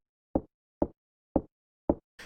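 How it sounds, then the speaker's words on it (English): Four evenly spaced, hollow footfalls echo through the rooms of the SNES horror game Clock Tower, each a short thud with a quick decay separated by near silence, followed by the start of a fifth. "Your feet echoing through each room is often the only sound you hear"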